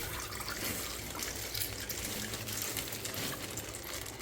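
Cold water pours steadily into a pot of white lima beans, a continuous soft splashing rush at low level with no speech.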